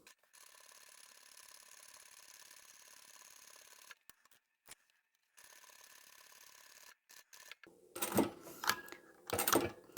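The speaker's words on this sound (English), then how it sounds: "So we will just stitch right in the ditch along the edge of the binding." A sewing machine stitches in the ditch along bias binding on a picnic placemat, a faint, even whirring run that stops, then a few brief clicks and two louder mechanical bursts near the end.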